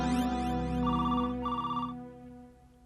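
A telephone rings during a call with a repeating electronic ringtone in two bursts, layered over a sustained musical background. No one speaks while it rings.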